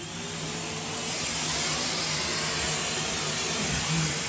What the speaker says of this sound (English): As I drill through, I can suck the bits up.